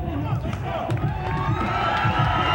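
Crowd at a 1995 Arnold Classic bodybuilding contest cheering and whooping steadily throughout, a dense roar of voices with shouts rising over it, loud and close.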